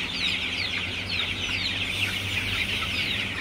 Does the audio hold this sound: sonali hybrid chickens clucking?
yes